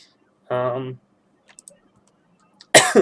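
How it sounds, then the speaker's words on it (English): A single harsh cough bursts out near the end, after a short voiced sound and a few faint clicks in near silence. "I do apologize for all the coughs."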